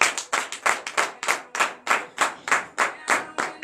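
Rhythmic group clapping at a morning church prayer service in Benin, with loud, even beats at roughly four per second, close and steady, and no talk over it.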